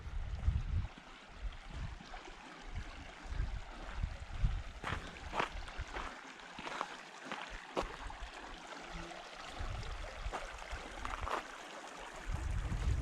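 Shallow Fishhook Creek water trickles and gurgles nearby in the Sawtooth Mountains, with light splashes and a few sharp clicks over a low rumbling background.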